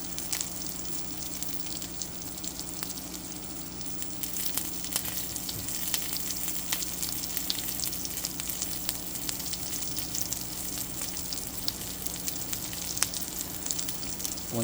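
An Impossible Burger patty sizzles and crackles steadily as it fries in a pan, a continuous close hiss with scattered pops and a low steady hum beneath, no voices.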